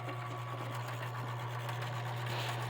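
The motor of a blue Smith-Corona Coronet Electric 10 Series 6E typewriter runs with a steady low hum and faint mechanical rattle, close and constant, with no talking.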